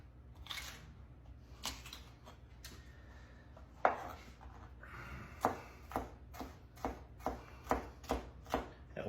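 Poblano and jalapeno peppers chopped on a cutting board, a few scattered knife strikes followed by a quick, even run of about a dozen crisp chops, close and fairly quiet, no talking.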